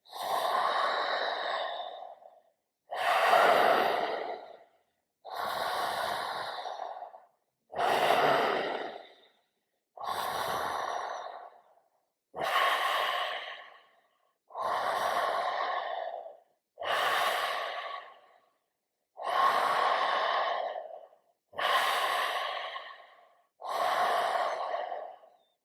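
Conscious connected breathing exercise: eleven deep, evenly spaced breaths, each a loud rushing inhale-exhale of about two seconds separated by short silences, close and alone.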